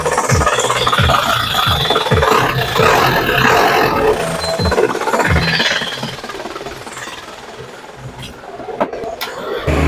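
A 1997 Isuzu Panther Hi-Sporty engine runs with a rough, rattling rumble, loud and close, with faint background voices and clatter mixed in.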